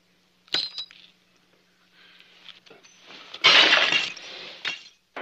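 Drinking glasses smashed after a toast in a regimental mess, with a short clink near the start, then a loud burst of breaking, shattering glass with debris trailing off.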